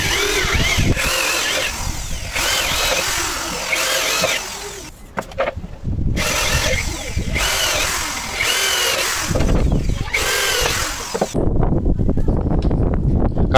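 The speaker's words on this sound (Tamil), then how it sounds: "அதுக்கான ட்ரில் பண்ணி கட் பண்ண ஆரம்பிச்சிடலாம் வாங்க." A power drill bores holes in the wood of a subwoofer box, whining loudly in repeated bursts of several seconds each, separated by short pauses and clattering handling noise.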